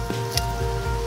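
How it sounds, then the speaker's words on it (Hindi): A portable metal high-pressure spray gun with an adjustable nozzle shoots a jet of water, making a steady close hiss with faint spattering throughout. "अब हम चेक करते हैं कि इस मेटल स्प्रे गन से कितनी तरह की जेट स्ट्रीम हमको मिलती है।"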